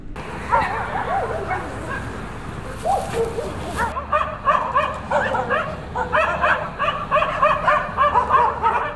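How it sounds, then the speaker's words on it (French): Stray dogs barking on a street in central Thimphu, Bhutan, an early-morning town setting: a chorus of repeated barks and yips from several dogs, loud and fairly close, growing busier and more rhythmic over the second half. "Il y a des chiens errants dans toute la ville."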